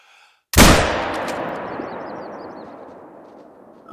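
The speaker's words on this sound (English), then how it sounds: "I don't know if that was a good shot or not" A single loud rifle shot in a hunting video game, booming close with a long rolling echo that fades over several seconds, with no talk.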